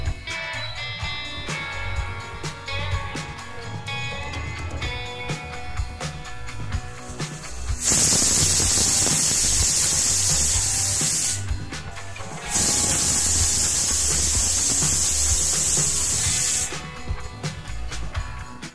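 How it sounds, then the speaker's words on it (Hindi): Pressure cooker on a stove releasing steam while cooking sarson ka saag: two long, loud, harsh whistling hisses of several seconds each, separated by a brief pause, over a background of kitchen noise. "कुकर से प्रेशर निकल गया है"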